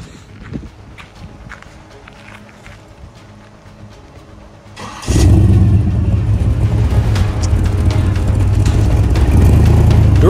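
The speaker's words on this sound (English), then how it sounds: "What's this for a car? 1938 Chev." A 1938 Chevrolet car engine runs loud and steady at close range, starting suddenly partway through after quieter street ambience with footsteps, then holding a continuous rumble to the end.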